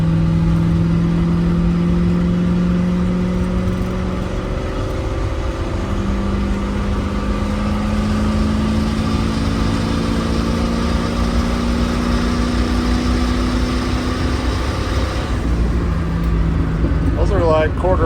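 Turbocharged Winnebago motorhome engine pulling at quarter throttle on the road, a loud steady drone with rising tones as it gains speed, a voice talking over it.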